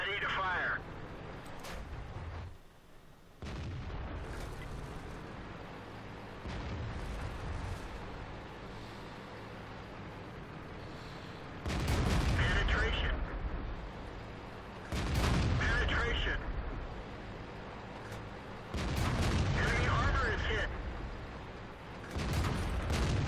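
Tank cannon shots in World of Tanks, several loud booming blasts spaced apart across the stretch, with someone talking over the game sounds throughout.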